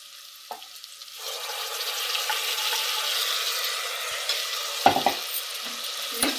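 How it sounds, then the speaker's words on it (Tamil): Ginger garlic paste sautéing with cooked onions makes a continuous hiss and sizzle that builds after a quiet start, with a couple of scraping stirs and clinks of the utensil. "இது பச்சை வாசனை போகிற வரைக்கும் நல்லா வதக்கிக்கலாம்"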